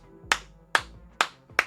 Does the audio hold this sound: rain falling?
no